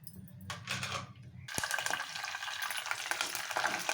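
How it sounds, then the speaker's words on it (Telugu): Mustard, cumin and fenugreek seeds hit hot oil, a quiet crackle that bursts into a dense, close sizzle and spatter and then holds steady, with no talk. "ఆవాలు జీలకర్ర మెంతులు అన్నీ వేసేసాను పోపుకి"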